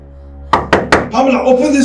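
Three firm, evenly spaced knocks on a bedroom door in a Nollywood drama scene set on a wedding night, followed at once by a raised voice and background music.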